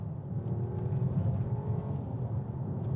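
A Mercedes S-Class engine, S400d or S500, drones low and steady inside the cabin in sport mode, swelling gently as revs build, moderately quiet with no talking.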